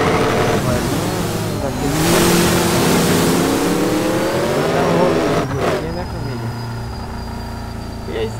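A car engine revs loud and close in a racing video game, a sustained rising whine with gear shifts and a brief tire squeal, under someone talking.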